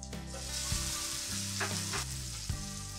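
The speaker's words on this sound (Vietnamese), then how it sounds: "Phần cà này thì mình sẽ xào khoảng 2 phút nha." Tomatoes sizzle and fry steadily in a hot pan with fragrant aromatics, with a few soft stirring scrapes; no voices.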